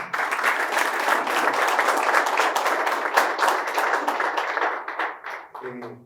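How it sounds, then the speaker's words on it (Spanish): Audience applause in a studio talk show fills the room, steady and dense for about five seconds before tapering off, with a voice briefly speaking as it fades at the end. "Un aplauso."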